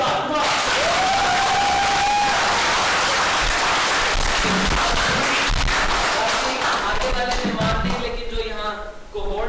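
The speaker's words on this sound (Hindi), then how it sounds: "तालियां ऐसी बजाएं जो कि जरा दीवारें हिला दें" An audience at a leadership day event claps and cheers loudly, a dense continuous roar of applause with a whistle and voices mixed in, fading slightly toward the end.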